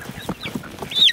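Chickens cluck close by as they are carried out to a field, with quick uneven clucks and one higher squawk at the end.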